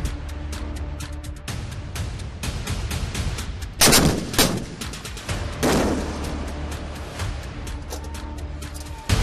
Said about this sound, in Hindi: This is M777 ULH gun ultra light howitzer